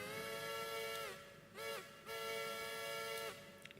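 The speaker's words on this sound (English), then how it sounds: "Good practice to blow whistles." A train whistle in a train video game sounds in three sustained, rich harmonic blasts, the first long, a short middle toot, then another long blast, over a steady low rumble.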